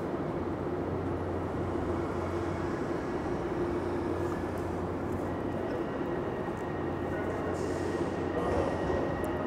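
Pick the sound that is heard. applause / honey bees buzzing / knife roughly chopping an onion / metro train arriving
metro train arriving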